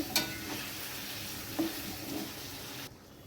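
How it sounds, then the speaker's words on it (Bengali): Potatoes with spices and a large tomato's worth of paste frying in a pan for aloo dum, a steady close sizzle with a few stirring scrapes, cutting off abruptly near the end. "এবার দিয়ে দিচ্ছি আমি একটা বড় টমেটো পেস্ট করা আবার আমি ভালোভাবে মশলাটা কষিয়ে নেব"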